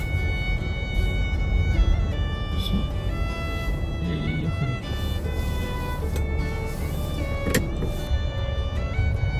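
A rental car rolls slowly toward the return area at an airport in Edmonton, a low steady engine and road rumble inside the cabin with a brief mechanical whir partway through.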